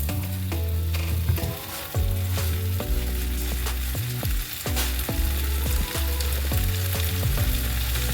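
Plant-based crumbles cooking in a pan, a close, steady fry with sizzling under a low hum and scattered stirring scrapes, and no talking.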